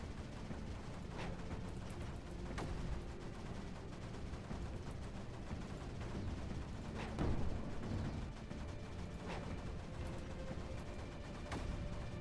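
Dense, continuous barrage of mortar fire in the strategy game Creeper World 4, steady thumping and rumbling throughout with a slightly louder burst of impacts near the middle, no talking.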